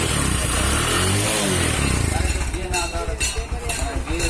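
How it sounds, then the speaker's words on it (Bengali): Motorcycle engine starting up right after its carburettor top was refitted to cure a fuel overflow, then settling into a steady idle with a few revs, close and loud along with metallic clinks. "তো এবার আমরা বাইকটিকে স্টার্ট দেব।"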